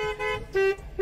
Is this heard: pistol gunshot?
no